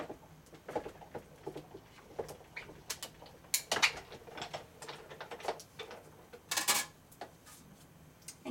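A Sizzix Big Kick die-cutting machine feeds a warped QK die and paper through its rollers, giving soft irregular clicks, ratcheting creaks and a few sharper crunches, close and fairly quiet, with no talking.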